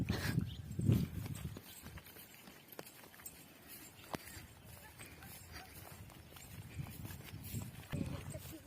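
Bullocks walk along a farm track with a soft, irregular clip-clop of hooves, while people talk over them at moderate distance.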